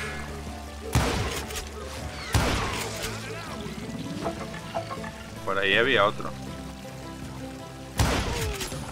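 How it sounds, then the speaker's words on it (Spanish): Gunfire in the Western shooter Call of Juarez: Gunslinger, a few sharp broadband shots spaced seconds apart, loud and close, while someone speaks over the game sounds. "He conseguido meter el disparo por medio del agujerito"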